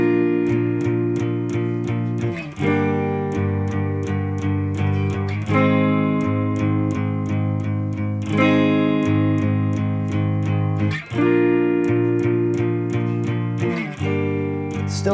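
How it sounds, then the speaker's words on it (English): Guitar plays a pattern for a song: a big full bar-chord strum, then quick small down strums on the power-chord part, repeating about every three seconds, loud and close with no talking. "doing one big strum of the full bar chord and then just doing small little down strums on just the power chord part at the bottom"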